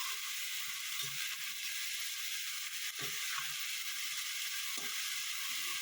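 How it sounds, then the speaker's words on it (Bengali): Cabbage fries in a pan with a steady, dense sizzle, broken by a few soft scrapes and knocks as it is stirred, close and continuous. "এবার এটাকে একটু নাড়িয়ে নেব।"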